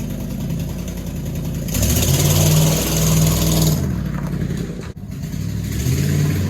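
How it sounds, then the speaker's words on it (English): A 2004 Ford Mustang GT engine with a manifold exhaust leak rumbles steadily with a rough, raspy edge while driving, rising briefly in a revving surge before settling back into a loud, continuous drone. "There's a horrible exhaust leak in the manifold."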